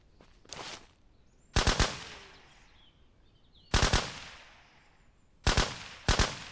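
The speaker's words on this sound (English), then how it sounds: "I love shooting them before they can even get out of the ground." Automatic gunfire from a player shooting enemies in the video game SurrounDead rings out in four short, loud bursts of two or three rapid shots each, separated by quieter pauses with faint ambient game sound and no talking.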